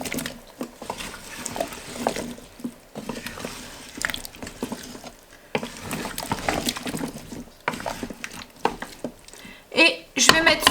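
Chicken, potatoes and carrots stirred in a pot, a steady run of wet squishing and scraping with clattering knocks, close by, with a voice talking intermittently over it.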